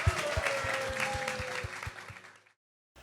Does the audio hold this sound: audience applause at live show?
yes